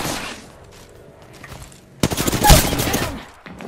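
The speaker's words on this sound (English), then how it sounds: "Getting shot at." Rapid bursts of gunfire in a tactical military shooter video game, a burst of muffled shots at first, then loud, close, dense volleys in the second half before a sudden drop.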